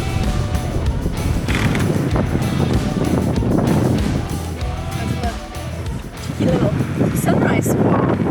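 Gusty squall wind roars across a sailboat at sea at sunrise, a loud, continuous broadband rush with buffeting on the microphone and splashing water, surging and easing in waves.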